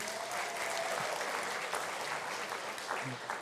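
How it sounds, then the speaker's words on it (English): Town hall audience applause at a political leaders' meeting, a dense, sustained patter of clapping at steady volume, with faint voices mixed underneath. "Let's give him a round of applause"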